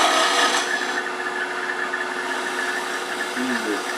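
A skew chisel shear cut on a wood lathe while turning a pencil pot, a continuous close hiss of steel shaving spinning wood over the motor's hum, steady and fairly loud for a few seconds.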